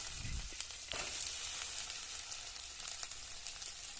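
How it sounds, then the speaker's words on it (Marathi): Steady crackling sizzle of field beans (val) frying in hot tempering oil, close and continuous, with a few brief clatters from stirring. "फोडणी झाले तेलामध्येच मस्त हे दाणं तळून घ्यायचं वालाचं"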